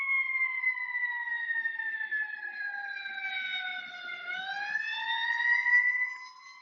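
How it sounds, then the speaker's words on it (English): A fire engine siren wails, rising and falling continuously at moderate distance, clear tones sliding in pitch as the vehicle passes, fading slightly at the end. "I got fire engines going by."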